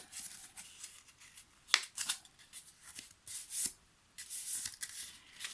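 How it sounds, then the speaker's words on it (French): Paper is folded for a scrapbook album binding, with soft crisp creasing and rustling, several short dry swishes and one sharper crackle, faint and close in a quiet room. "Vous faites vos plis."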